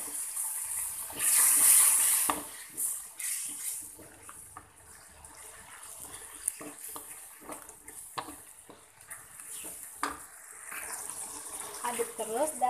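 Water is poured into a pan of red and green chillies, making a brief splashing gush near the start, then quieter sizzling and stirring, with speech at times.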